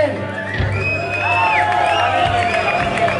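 Festival crowd at Rock Toledo Fest cheering and whooping for a band, a steady loud roar of voices with shouts rising above it, close and continuous throughout.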